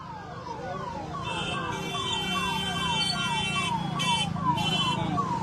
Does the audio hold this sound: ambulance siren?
yes